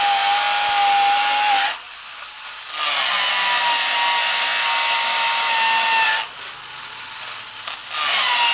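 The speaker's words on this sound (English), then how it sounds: "just going to drill the holes to mount the stringer onto the wall" A power drill whines loudly in long sustained bursts, drilling holes into a wall to mount a stair stringer, pitch shifting as it bites, with short pauses between runs.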